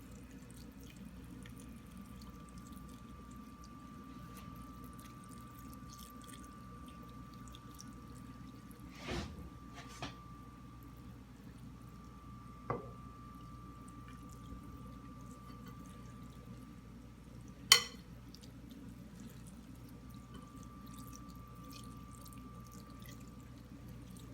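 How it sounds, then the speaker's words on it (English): Chicken stock pours from a container into homemade sausage dressing, a quiet, steady liquid trickle with a few brief clinks, and no talking. "Now I'm going to start pouring some of this chicken stock because it's going to loosen."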